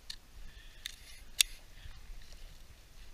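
Scissors make a few soft snips through Durabunker bunker material along the stitching, with one crisp louder cut in the middle. The cuts are close and quiet and there is no talk.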